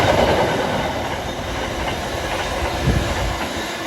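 A train passes on the railway at South Wingfield with a loud, steady rumble and faint clickety-clack of wheels close by, unbroken throughout and with no talk.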